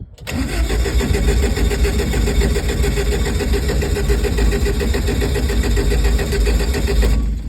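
A Datsun engine cranks on a cold start after a week of sitting, the starter churning in a loud, close, rhythmic chug that runs without a break for about seven seconds before it cuts off.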